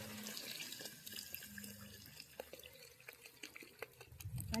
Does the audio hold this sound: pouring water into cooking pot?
yes